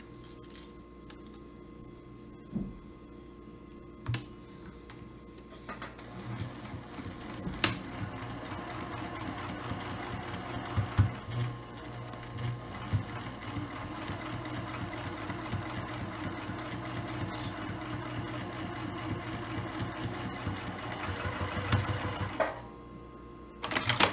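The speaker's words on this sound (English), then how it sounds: "Now I'm going to work on sewing all 3 sides for the lining." Sewing machine stitching the three sides of a lined tote bag's lining, a steady close mechanical whir running almost the whole time with brief pauses near the start and a stop at the end.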